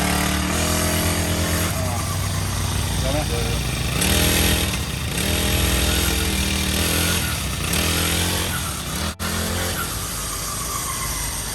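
An Ogawa LPS380 four-stroke brush cutter engine runs close and loud, its steady buzzing drone shifting pitch a few times as the throttle changes.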